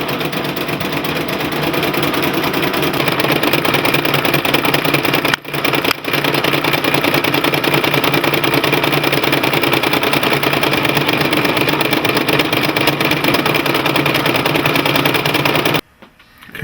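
A Brother embroidery machine stitches through leather on stabilizer, a steady, loud mechanical hum with rapid needle chatter running continuously, broken by two brief pauses early on and stopping near the end.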